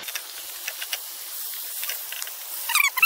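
Onions added to a pan of browned meat for an Irish lamb stew with Guinness give a soft, steady hiss with faint crackles, quiet at first and then a brief louder spatter at the end.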